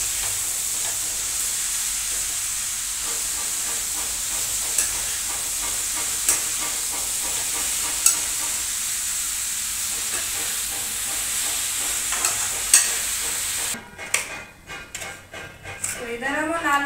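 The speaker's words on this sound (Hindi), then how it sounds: "अच्छे से हम सब्जी को मिक्स कर देंगे।" Vegetables for a sabzi stirred in a frying pan with hot oil, a steady close sizzle and hiss with periodic scraping knocks of the spoon, ending in rougher clattering stirs.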